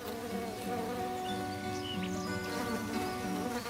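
Hornets, bees or wasps buzzing around ripe fallen fruit in a meadow of scattered fruit trees, a steady close drone with several overlapping wingbeat tones, alone without voices.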